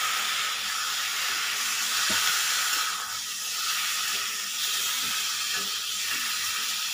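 Meat fries in a pan with turmeric and chili powder, giving a continuous close-up hiss with a few soft clicks and taps scattered through it.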